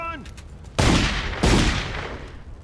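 Dense bursts of gunfire in The Godfather 2 video game, two loud sustained volleys fired up close and following each other quickly.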